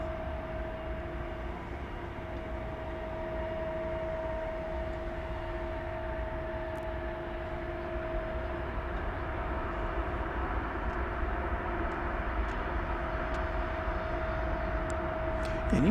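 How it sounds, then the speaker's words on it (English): An American Airlines Airbus A321 in Allegheny heritage livery arrives at Dallas/Fort Worth airport, a faint, distant steady engine drone with a constant tonal whine that grows slightly louder toward the end. "Flight 3185 coming in from Los Angeles was that one, an Airbus A321"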